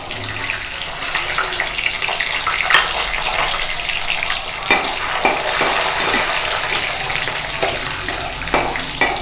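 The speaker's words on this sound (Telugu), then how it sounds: "ఇవన్నీ మాడకుండా కొంచెం మీడియం ఫ్లేమ్లో పెట్టుకొని ఇవన్నీ వేగేంత వరకు ఫ్రై చేసుకోవాలి" Mustard seeds, chana dal, urad dal, dried red chillies and peanuts fry in hot oil over a medium flame for rava pulihora tempering, a steady close sizzle with crackling pops and stirring scrapes throughout.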